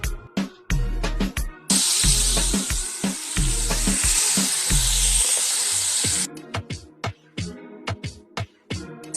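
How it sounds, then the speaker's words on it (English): Aromatics are sautéed in a pan in a campus kitchen: a loud burst of sizzle hits as they go into the hot oil and dies away after a few seconds, framed by clinks and knocks of utensils and no speech. "You start sauteing your APs first."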